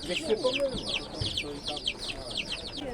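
Hens cluck and squawk at a poultry market in Michów, several birds calling close by in quick overlapping bursts while people talk nearby.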